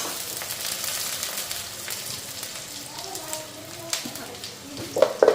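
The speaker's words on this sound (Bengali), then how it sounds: "তো আলুও দিয়ে দিলাম, এখন আলুটা ফ্রাই করে নিই।" Potatoes frying in spiced oil in a pan give a dense, hissing crackle that fades slightly midway, with clattering pops near the end and faint speech in the background.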